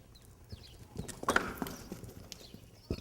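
A horse cantering in a riding arena: irregular hoof clip-clops thudding at a moderate distance, with a louder strike near the end and faint background noise.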